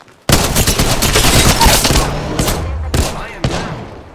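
Sustained automatic gunfire crackles loudly and densely in an Apex Legends firefight, continuing for several seconds before breaking into a few separate short bursts near the end.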